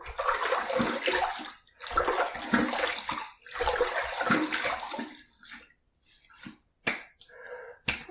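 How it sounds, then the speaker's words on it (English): Water is splashed onto a face by hand before a shave, three loud wet splashing bursts in a row, then a pause and a few smaller drips and splashes close by. "So let me wet the face."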